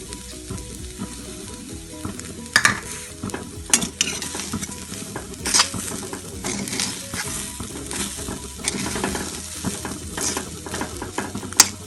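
Cluster bean paruppu usili stir-fries loudly in a pan with curry leaves, a dense continuous sizzle broken by repeated sharp scrapes and clinks of a spoon against the metal.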